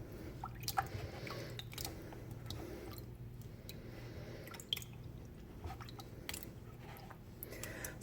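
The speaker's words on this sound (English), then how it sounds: "I'm not agitating it, I'm just kind of like squeezing it down in the water to give it" Hand-spun yarn is squeezed down into soaking water, making soft, close squelching and dripping sounds in an uneven rhythm over a low steady hum, with no talking.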